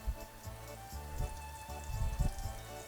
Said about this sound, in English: I'm going to saute that garlic